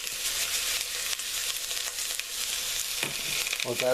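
Onion and celery cooking with a pinch of salt in a pan for vegetarian jambalaya, making a dense, even sizzle up close, with a few clanks of a utensil near the end and no speech.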